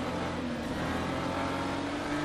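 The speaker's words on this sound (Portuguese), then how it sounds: "Estamos no R-Factor 2 com essa máquina linda aqui da BMW" A BMW race car in the rFactor 2 racing simulator, its engine droning steadily and loudly throughout with no pause, heard alone without talk.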